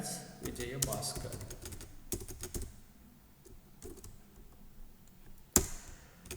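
Someone types on a computer keyboard in bursts of quick clicking keystrokes separated by quiet pauses, with a sharper tap near the end.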